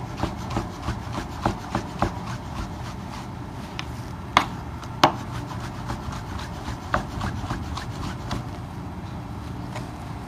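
Knife slicing raw pork tenderloin on a cutting board, giving a run of soft repeated scraping and tapping cuts with a few sharper knocks, close and steady with no talk.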